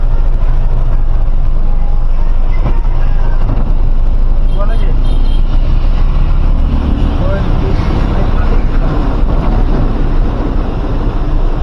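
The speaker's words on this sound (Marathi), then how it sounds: "traffic jam" Steady low road rumble from engines and passing vehicles in a traffic jam near Cochin airport, heard from a truck, loud and continuous, with wind buffeting the microphone and voices talking underneath.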